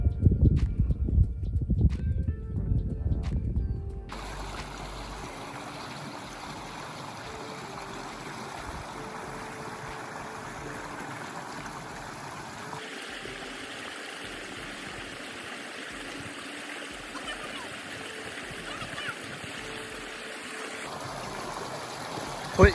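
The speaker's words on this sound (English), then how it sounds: "do a little river crossing" Water flowing and splashing as people wade across a river on Dartmoor moorland, a steady rushing stream close by with faint trickles throughout, with louder low rumbling handling noise in the opening seconds.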